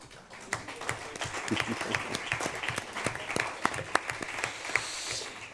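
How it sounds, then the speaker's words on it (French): Municipal council members in a French town hall meeting applaud themselves, a dense, sustained round of clapping from a room of people with sharper individual claps standing out, steady for several seconds. "je propose aussi que nous nous applaudissions"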